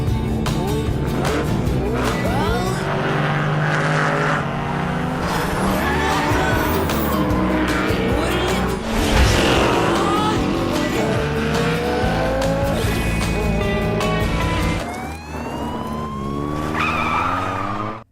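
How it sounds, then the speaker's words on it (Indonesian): A Toyota Supra MK4 and a red 1967 Ford Mustang in a street race, engines roaring loud and continuous with tire squeals and skids throughout, backed by a dramatic film soundtrack. "Di awal balapan, Roy yang mengendarai Ford Mustang tahun 67 warna merah cukup keteteran melawan Titi."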